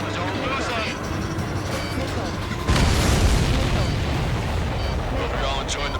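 Missiles strike supply ships in the Ace Combat 7 flight game, with a sudden heavy boom near the midpoint followed by a dense rumbling roar over continuous jet and engine noise.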